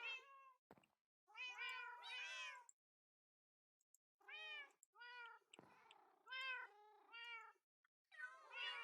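Several black cats in Minecraft give a run of loud, close meows, in pairs and clusters with a silent gap partway through, some calls rising and falling in pitch.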